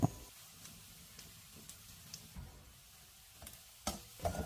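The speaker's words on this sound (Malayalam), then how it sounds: "ഇത് പതിനഞ്ച് സെക്കൻഡ് നേരം ഒന്ന് വഴറ്റിയെടുക്കാം" Coriander powder, sambar masala and Kashmiri chili powder sauté in a pan for an okra tamarind curry, heard as a faint, soft sizzle with occasional light ticks and scrapes of stirring.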